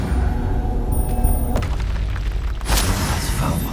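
Confringo blasting spell going off in Hogwarts Legacy, heavy booming bursts with a sharp crack near the middle and a second burst near the end over a rumbling game backdrop.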